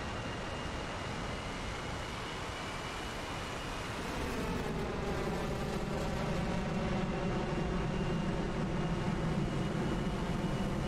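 F-18 jet engines spool up in a multiplayer flight combat game before takeoff, a steady broadband roar that swells after a few seconds and holds with a rising whine and layered tonal hum, continuous and close.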